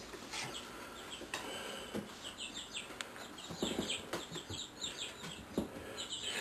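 Backyard chickens clucking and chirping nearby, a busy run of short, repeated calls over a steady outdoor background, with a few louder bursts scattered through.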